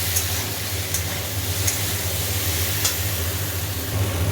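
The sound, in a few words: food frying in a pan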